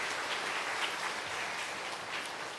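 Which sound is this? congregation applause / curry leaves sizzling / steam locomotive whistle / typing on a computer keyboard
congregation applause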